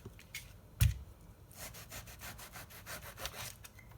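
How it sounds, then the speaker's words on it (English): Knife cutting around the rind of a pomelo, following the curve of the fruit: soft rasping, sawing strokes in a steady rhythm, close and fairly quiet, with one brief knock near the start. "let me just keep cutting this around, and you can see I'm following the curve of the fruit"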